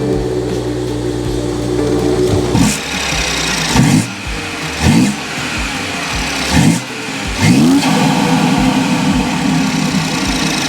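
A BMW 540i xDrive engine cranks and catches, then idles steadily while several sharp revs rise and fall at close range, with no one talking.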